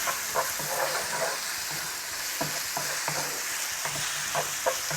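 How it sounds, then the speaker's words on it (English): Chicken pieces frying in a pan on high heat, a constant bright sizzle with repeated scraping and clattering stirring strokes at an irregular rhythm, close and clear with no voices. "once that's sizzling, I'm going to add in the chicken. And I've got the heat on high."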